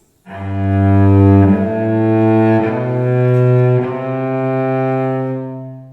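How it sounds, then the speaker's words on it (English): A cello plays a few long, smoothly connected bowed notes, each held and gliding into the next without breaks, rich and resonant, with no voices. "for string players this means to use longer connected bow movements like this"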